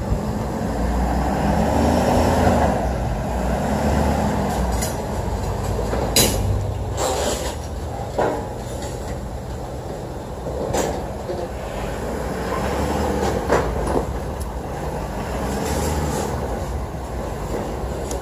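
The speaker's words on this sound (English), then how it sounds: "we're going to start loading this F450 pickup truck on the back of this trailer" A Ford F450 pickup truck rolls slowly onto a car hauler trailer, giving a steady low engine rumble with metallic creaks and clanks from the trailer, and sharp knocks punctuating the sound partway through.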